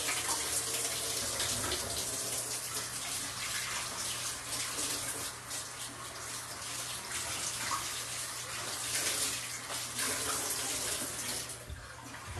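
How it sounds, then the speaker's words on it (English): Tap water runs steadily into a kitchen sink for hand washing, a continuous close splashing rush that lasts throughout with no talking. "just gonna wash my hands."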